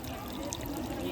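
Water pours steadily at a water-saving science exhibition display, a soft continuous splashing stream heard under faint background chatter.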